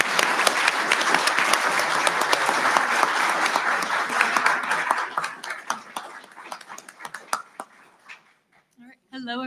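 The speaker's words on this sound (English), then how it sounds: "applause." An audience at a school gathering breaks into loud, dense applause that thins into scattered claps and fades out, and a voice speaks briefly at the very end.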